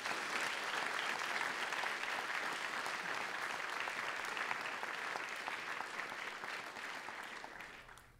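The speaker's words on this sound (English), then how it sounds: "So please give them a round of applause." Applause from an audience honoring military veterans at a 2012 diploma ceremony, sustained dense clapping at moderate distance that carries steadily before fading out at the end.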